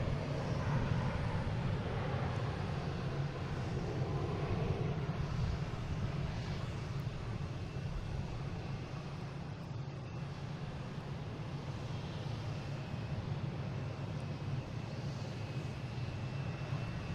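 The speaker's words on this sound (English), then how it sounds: "Another JetBlue coming in here, sneaking in from JFK on 4 left" A JetBlue airliner arriving from JFK lands on runway 4 left at Boston Logan with a constant broad engine rumble and rush of air that holds evenly throughout, heard alone without talk.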